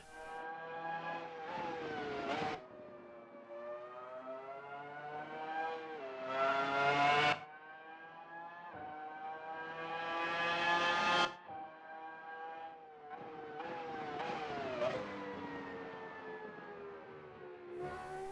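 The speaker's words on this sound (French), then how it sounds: "est-ce qu'il y a autre chose à faire que de vous laisser écouter ce V10" The V10 engine of a 1997 Formula 1 car in the Assetto Corsa racing game screams through repeated rising revs and sharp gear changes, loud and close, with brief drops between pulls and no voices.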